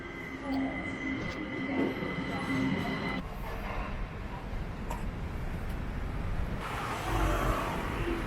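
Small above-ground Green Line light-rail train running steadily, a continuous rumbling roll with rail noise and a faint high whine, fairly close and moderately loud.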